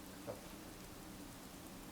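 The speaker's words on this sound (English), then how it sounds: "we can look down on Mama Murphy in her chair in the rain" Rain falls steadily in the game Fallout 4, a soft even hiss of drops with no pauses and one faint louder patter early on.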